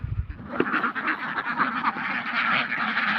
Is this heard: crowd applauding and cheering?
no